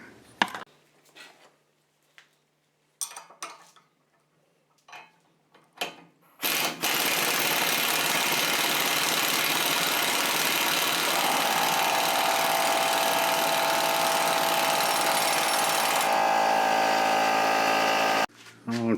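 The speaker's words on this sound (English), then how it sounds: "We'll go ahead and tighten this nut up here, and then it'll pull that in." A nut is tightened with a ratchet to draw a pressed-in wheel bearing into its housing; after a few sparse clicks and knocks comes a long, loud, steady mechanical grinding and whirring that runs continuously for about twelve seconds before stopping.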